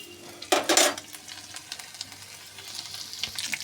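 Ginger frying in a pan, a brief loud burst of sizzle followed by quieter, softer crackling and a light stirring scrape, close up with no talk.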